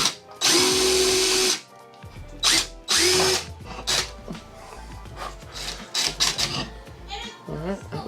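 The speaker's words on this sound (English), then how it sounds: "now I've got to drill those holes out real quick" Power drill boring holes in a tub and shower glass door frame, with several short loud bursts of whirring separated by pauses, plus scraping and handling noises and a person talking in between.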